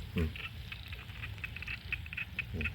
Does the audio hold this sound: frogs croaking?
yes